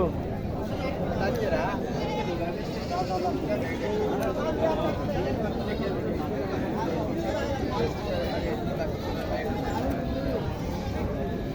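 Goats bleat amid a busy crowd, their cries mixed into constant chatter and background hubbub at Mataji livestock market in Naogaon, Bangladesh.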